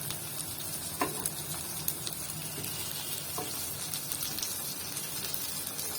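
Brinjal slices frying in a pan give a steady, fairly soft sizzle with a few faint ticks and pops throughout.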